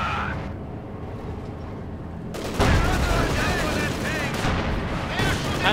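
A Pak 43 anti-tank gun fires in the Company of Heroes 2 real-time strategy game, a sharp close blast cutting in after a quieter battlefield bed, followed by crackling gunfire and rumbling explosions.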